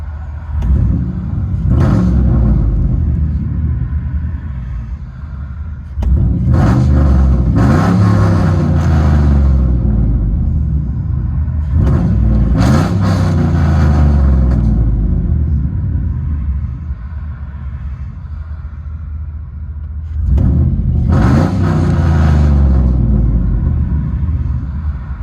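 A 2006 Chevy Silverado 2500HD with a 6.0L V8 and straight-pipe true dual exhaust revs loudly and close in three or four deep, rumbling bursts, each climbing and falling back to idle.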